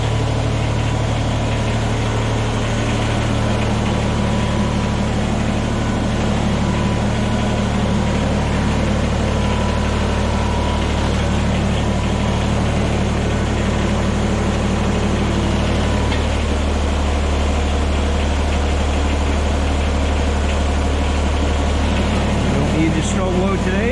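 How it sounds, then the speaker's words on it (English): A tractor engine idles with a loud, steady low rumble and constant vibration, close by, continuing unchanged throughout. "getting the tractor going"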